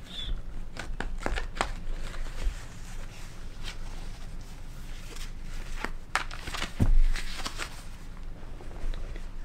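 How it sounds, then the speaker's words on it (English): Quiet, irregular tarot card shuffling: soft riffles and sharp slaps of cards in bursts, close by, with no talking. "Shuffle these cards."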